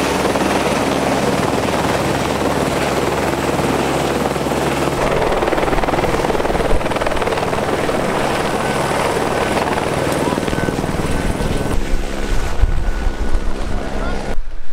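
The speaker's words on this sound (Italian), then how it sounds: "Con l'elicottero stiamo portando il materiale." A helicopter ferries construction material to a house during loft renovation work, its loud steady rotor and engine roar filling the whole stretch with buffeting wind noise, close and continuous.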